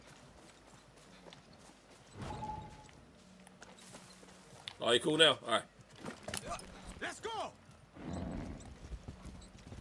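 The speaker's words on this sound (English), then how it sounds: "All right, here's another horse." In the video game Far Cry 6, horse hooves clip-clop in uneven bursts alongside jangling tack and a brief snort, while a player talks over the sounds.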